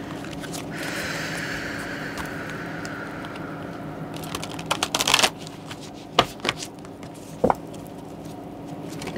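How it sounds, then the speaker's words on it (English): Oracle cards riffle and slide together in a steady shuffle, followed by a few sharp taps and flicks as the deck is squared up. "I've been having a hard time shuffling these cards."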